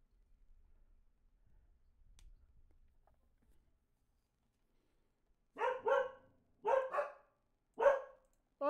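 Dogs bark indoors at home, three sharp bark bursts in a row, each with a quick double note, loud and close after several seconds of near silence with faint low rumble.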